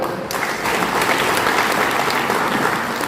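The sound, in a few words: audience applause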